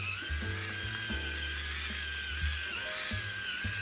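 An electric pepper grinder with a light grinds hot, fresh peppercorns with a continuous whirring motor and gritty crunching that pulses slightly. The sound is close and steady throughout.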